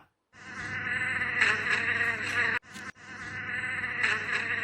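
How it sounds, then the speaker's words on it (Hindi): A dense, droning buzz of many bees fills the space, loud and continuous, with a brief cut partway through before the swarm resumes. "प्रोफेसर, सैकड़ों मधुमक्खियों ने मुझे घेर लिया है।"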